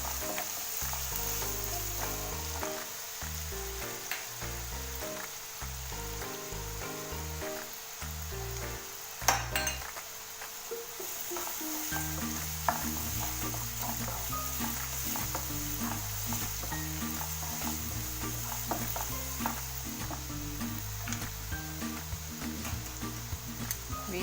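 Two medium onions, thinly sliced, fry in a pan until slightly golden for aloo matar. A steady sizzle with repeated stirring scrapes and the odd utensil clank runs throughout at moderate volume, with no voices.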